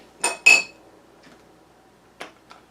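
A spoon clinks against a cup while stirring ginger herbal tea, two close sharp clinks followed by two fainter taps after a pause, in a quiet kitchen.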